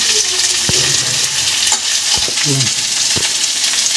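Pieces of fish for a Bengali rui fish curry fry loudly in a pan while a spatula stirs and scrapes through them, with a few clear knocks against the pan over a constant close sizzle.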